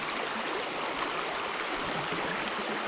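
A small Carpathian mountain river holding trout and grayling rushes and babbles steadily nearby, a dense even wash of water with no voices.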